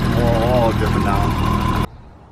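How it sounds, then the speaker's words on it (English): BMW E30 engine idles steadily after an oil pan replacement, a close, even mechanical hum that stops abruptly near the end, leaving faint background. "the engine runs"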